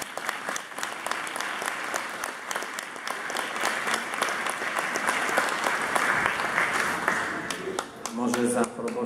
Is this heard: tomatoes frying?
no